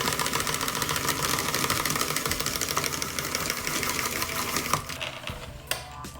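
A hand-cranked spiralizer turns zucchini into spaghetti strands, giving a fast, steady whirring clatter up close that continues for about five seconds before easing off.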